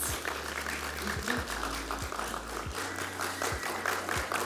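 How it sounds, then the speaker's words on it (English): Applause rolls through a pinning ceremony, steady crowd clapping at moderate volume with low rhythmic thumps and a faint hum underneath. "keep the applause flowing"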